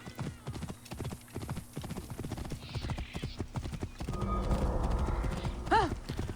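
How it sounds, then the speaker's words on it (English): A horse trots in the Assassin's Creed Origins game, its hooves clip-clopping in a steady quick rhythm up close, followed by a rougher rush of movement and a brief whinny near the end. "I'm also going to steal one of these horses."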